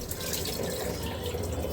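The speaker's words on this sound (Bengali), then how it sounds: "আমি একটু জল পাঞ্চ করে দিচ্ছি, ওটা শুনবি" Water is poured over rice while it is washed before cooking pilaf, a soft, continuous splashing and trickle, close and fairly quiet, with no voices.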